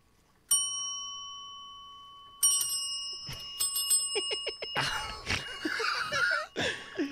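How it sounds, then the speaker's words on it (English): A bell rung by cats trained to ring it for food chimes twice with clear, ringing dings a couple of seconds apart, followed by laughter and lively talking. "Who have been taught to ring a bell for food."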